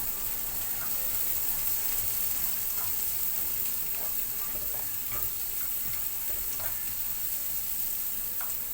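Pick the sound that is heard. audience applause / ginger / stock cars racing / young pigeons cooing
ginger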